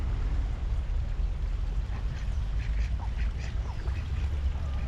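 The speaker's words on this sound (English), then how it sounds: "Look at the geese." Geese honk and call in scattered bursts over a constant low rumble of background noise, in Lima, Peru.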